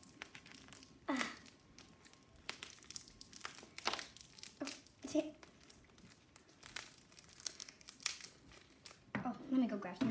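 Wrapping paper on a gift crinkles and tears in repeated bursts of rustling and ripping, close and irregular, with a voice talking faintly in the background.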